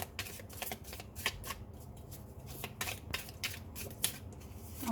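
A deck of tarot cards is shuffled by hand in a quick series of crisp riffles and flicks, close and fairly loud, with short pauses between bursts and no talking.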